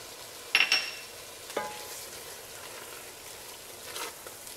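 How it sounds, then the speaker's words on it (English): Sausage and a spice mixture frying in a soup pot for lentil soup, with a steady close sizzle, a few sharp stirring clatters and scrapes early on, and no talking. "So let's go ahead and add in our sausage. Let that start to break down a little bit."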